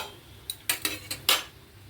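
Paneer being stirred in a pan, with five or six sharp clinks and scrapes of a utensil against the metal in quick irregular succession, close but fairly soft.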